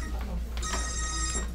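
A mobile phone rings during a public meeting, with a short bright ringtone sounding over a low room hum and scattered murmuring voices.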